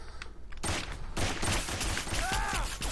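Rapid bursts of automatic gunfire from Saints Row 4, loud and dense, with a brief pause before the firing resumes, plus a few rising electronic tones near the end.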